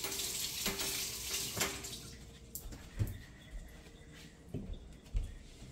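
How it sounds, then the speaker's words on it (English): Tap water running into a sink while hands are washed after cracking eggs in a kitchen, a soft steady splashing with small irregular clinks and drips, fairly quiet. "remember to wash your hands after you've cracked the egg"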